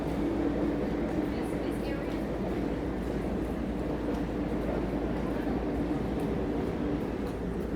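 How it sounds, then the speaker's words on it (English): A train passes through Harpers Ferry, West Virginia, producing a loud, continuous, steady rumble that stays constant from start to finish. "See if we can get the train coming through."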